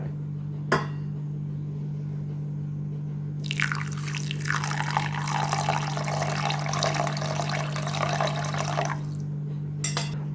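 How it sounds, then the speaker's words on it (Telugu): Fresh buttermilk pours over oats in a bowl, a close, gurgling liquid stream lasting several seconds over a steady low electrical hum, with a brief splash near the end and no talk. "ఓట్స్ని మజ్జిగతో సోక్ చేసుకుందాము. ఫ్రెష్ మజ్జిగ."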